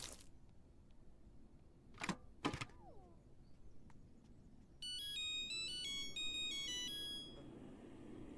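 A new cooking appliance in The Sims 4 gives two sharp clicks or clunks, then a bright electronic chime melody of rapid stepped tones that plays for a couple of seconds over quiet background.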